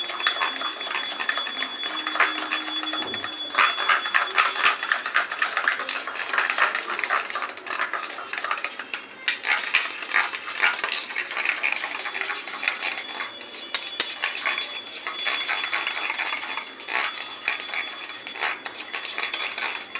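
Mango being stirred into yogurt in a bowl, with busy clinking and scraping of a utensil against the dish that continues steadily and fairly close throughout.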